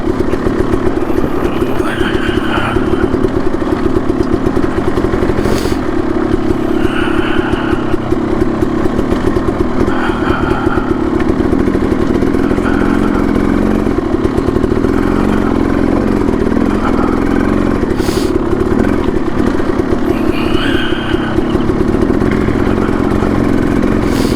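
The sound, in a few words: KTM 300XC and Yamaha YZ 450FX dirt bike engines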